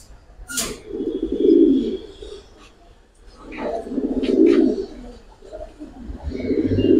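Pigeons coo close by in a loft, three deep, rolling phrases separated by short pauses, while someone talks over them.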